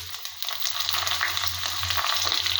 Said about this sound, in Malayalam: ഉള്ളി ഇട്ടു. ചുമന്നുള്ളി ഇട്ടു.